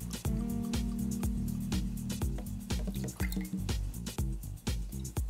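Aperol, about 20 ml, poured into a cocktail, a close liquid stream with dripping and splashing plus glassy taps, steady then trickling off.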